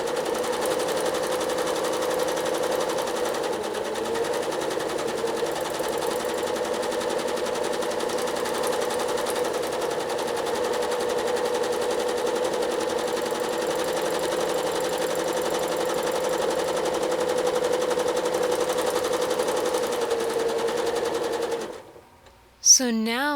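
A sewing machine stitches a circuit-board quilting pattern, its steady rapid mechanical whir running near and continuous for about twenty-two seconds before stopping abruptly.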